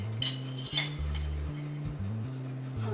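Egg, blended apple and cinnamon stirred together in a bowl, with a utensil clinking and scraping steadily against the bowl over soft background music.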